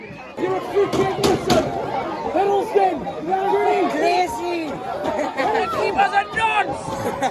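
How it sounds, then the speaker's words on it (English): Dense crowd chatter and babble at a Gateshead FC football match fill the clip steadily and loudly, with shouts and voices rising and falling close by throughout. "Massive crowd here"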